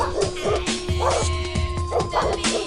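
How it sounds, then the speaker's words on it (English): A dog barks and yips repeatedly in a played sound bite, loud and close, with whimpering yelps mixed among the barks and a steady tonal hum beneath. "It's just like a dog."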